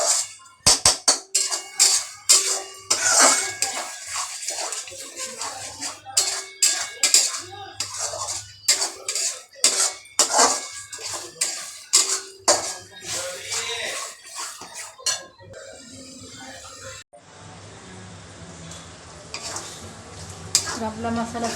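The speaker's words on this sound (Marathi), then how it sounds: "तेल सुटेपर्यंत चांगला मसाला चांगला तेलामध्ये भाजून घ्यायचा आहे" Wet coconut masala being stirred and fried in oil in a pan, with repeated sharp scraping clatters of a spoon against the pan over a steady sizzle, the stirring stopping near the end as the frying hiss carries on.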